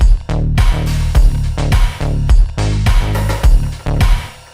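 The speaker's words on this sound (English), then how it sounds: "So that's the sound of just the IconDrum on its own" A punchy 80s-style electronic drum pattern from a GForce IconDrum drum machine, with booming kicks and snappy hits, repeats in a steady rhythm, loud and upfront with no voices.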